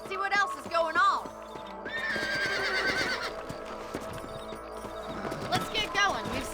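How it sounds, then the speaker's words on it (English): Horses in the Red Dead Redemption video game whinny and trot with clip-clop hoofbeats, several shrill neighs rising over steady hooves against background game audio and voice. "Let's get back on the horses and see what else is going on."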